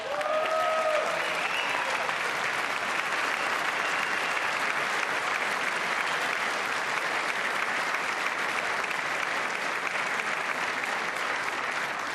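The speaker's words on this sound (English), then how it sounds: "I wasn't sure if anybody even on this side was going to applaud for that." Loud, sustained applause filling the chamber of Congress during the State of the Union address, dense and unbroken throughout, with a brief voice at the very start.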